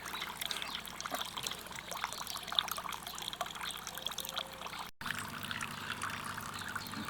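Water trickles through a Millbank bag filter into a kettle in a backyard bushcraft water-treatment setup. The soft, continuous dribble carries on with a brief break near the end, and no voices are heard.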